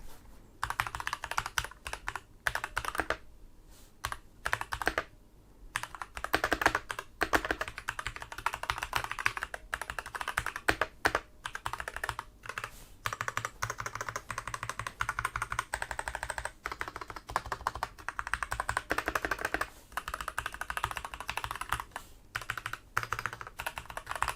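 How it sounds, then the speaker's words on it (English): Steady, rapid typing on a pre-lubed Keychron K1 full-size mechanical keyboard with crisp clacky keystrokes, close and continuous, with a few brief pauses and no talking. "let's take a listen to what the keyboard actually sounds like"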